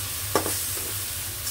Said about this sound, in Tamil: நல்லா மிக்ஸ் பண்ணி இந்த இறால் நல்லா குக் ஆகட்டும்.